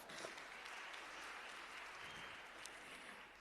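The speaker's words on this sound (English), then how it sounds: "A very big round of applause to yourself." An audience at a provincial excellence awards ceremony in KwaZulu-Natal claps steadily, a dense, even applause filling the room at a distance for a few seconds.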